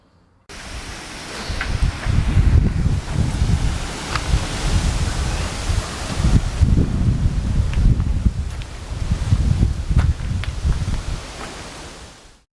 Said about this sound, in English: as you can hear, it is mostly windy outside